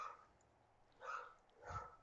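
Three short dog barks, a soft one followed by two louder yips spaced about half a second apart, faint and indoors with no voices.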